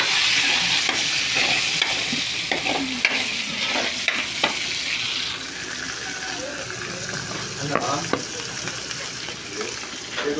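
Onions sizzle and fry in a pan while a utensil scrapes and stirs them in irregular strokes. The sound is close and steady, with brief faint talk in the background.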